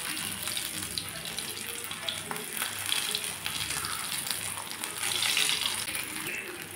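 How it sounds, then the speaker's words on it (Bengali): Potato paratha frying in a pan, a steady broadband hiss and sizzle that runs continuously and fairly loud throughout, swelling slightly near the end. "আরেকটা পরোটা ভেজে দেখাচ্ছি।"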